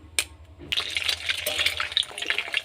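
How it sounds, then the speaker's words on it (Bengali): Two eggs poured into hot mustard oil in a wok, a faint splashy spitting and crackling burst after a short pause, soft and close with irregular bubbling pops. "এই তেলের মধ্যে আমি ডিম নিলাম।"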